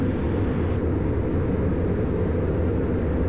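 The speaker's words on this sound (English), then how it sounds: "Here goes gear." Aircraft landing gear extends on approach, a steady heavy low rumble with broad rushing noise that stays even and continuous throughout, with no voices.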